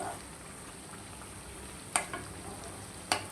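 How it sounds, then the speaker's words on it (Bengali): Onions frying in a pan give a soft, steady close sizzle, broken by two brief clinks of a utensil against the pan, with no talking. "আমার পেঁয়াজটা প্রায় ভাজা হয়ে গেছে"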